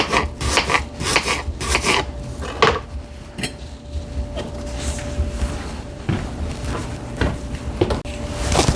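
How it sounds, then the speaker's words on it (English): A knife slicing apples into a bowl for frying, giving a steady series of close scraping and clicking cuts against a board with occasional clinks, and no talking. "I'm going to cut all these apples and put them in here in a bowl"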